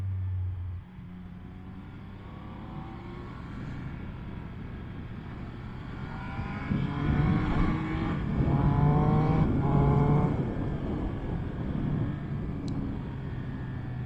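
Triumph Speed Triple RS or Yamaha MT10SP motorcycle engine held around 4,000 RPM on the road, a steady droning hum whose revs build and swell through the middle before settling, with no talk.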